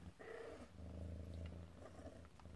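A cat purring softly and continuously at close range, a low rumbling hum that holds steady for a couple of seconds with no talk over it.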